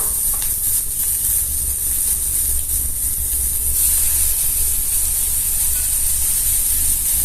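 Mustard seeds and red chili sizzle and crackle in hot coconut oil, a loud, steady frying hiss running without a break, close up and with no talk over it.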